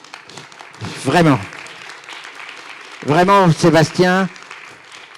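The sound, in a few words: audience applauding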